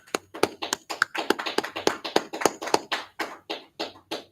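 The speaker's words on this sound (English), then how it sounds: "Let's clap it up." An audience at a Tuesday brotherhood class in Houston claps in sharp, quick, fairly regular hand claps that continue for a few seconds, close and alone without talk.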